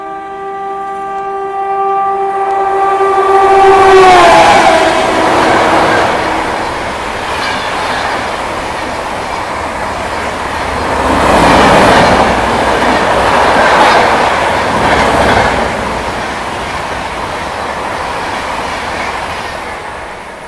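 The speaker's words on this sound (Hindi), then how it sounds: "एक और 130 की रफ्तार में ताबड़तोड़ ओवरटेक।" An Indian express train overtakes at about 130 km/h, its horn sounding a sustained multi-tone blast that drops in pitch as it passes. Loud rushing wheels and rail clatter follow, swelling and fading in waves as the carriages go by.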